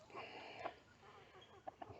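Quiet, soft chicken clucks and murmurs close by, with a couple of short sharper clucks near the end over faint background noise.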